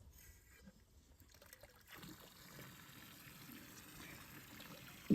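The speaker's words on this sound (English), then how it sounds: "I'm going to fill their water up" Water trickles and splashes faintly as an animals' drinker is filled outdoors on a small farm, a low, continuous pour under quiet ambient noise.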